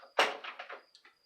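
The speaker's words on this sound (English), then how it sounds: "Mark's coming in and slamming doors" A door slams indoors, giving one sharp bang followed by a few quicker rattling knocks that fade out, with a faint steady electronic tone in the background.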